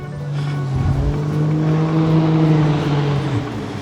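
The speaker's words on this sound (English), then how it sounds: "Somebody over there showing off in their diesel truck" A diesel truck at a Midwest car show, its engine revving hard and loud nearby with a deep rumbling roar that holds steady for several seconds, rising and falling slightly before easing off at the end.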